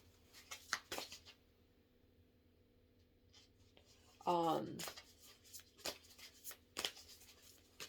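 Brief riffling burst of tarot cards being shuffled, fairly close, surrounded by soft taps and quiet handling sounds with occasional murmured talk.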